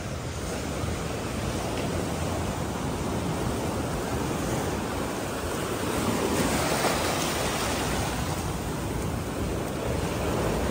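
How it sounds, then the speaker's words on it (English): Strong high-tide waves surge onto rocks at a beach in El Nido, Palawan, a dense continuous wash of surf with a gentle swell in intensity, heard alone without talk. "The waves are coming in strong."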